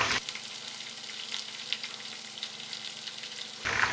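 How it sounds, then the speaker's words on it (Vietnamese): French fry potatoes sizzle and crackle steadily in hot frying oil, a continuous close hiss with small pops throughout and no talking. "Bây giờ chúng ta chuẩn bị chiên khoai các bạn nha."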